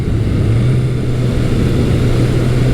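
A Suzuki GS1100E or Kawasaki Eliminator motorcycle engine revs, a loud, steady low drone with a slight pitch rise near the start, heard up close and alone.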